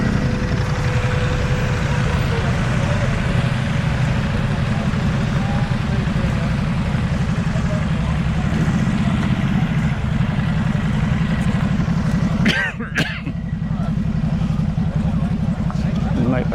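Ducati motorcycles back from their rides at the ABR Festival idle and rumble nearby in a steady, continuous engine drone, with a brief sharper burst near the end; people talk over the engine noise.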